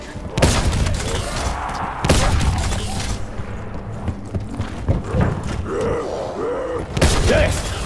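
Heavy cannon blasts from Black Ops 4 Zombies at round 13: a few loud, booming bursts spaced seconds apart over a busy bed of game noise, clanking mechanisms and grunting creatures.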